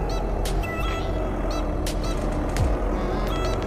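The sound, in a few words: truck horn in video game Euro Truck Simulator 2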